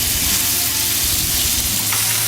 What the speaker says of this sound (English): we're just kind of searing this chicken off a little bit in that olive oil